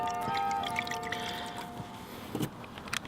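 Worcestershire sauce poured from a bottle onto pork chops, a short faint liquid trickle with small splashes and a few light clinks near the end, no talking.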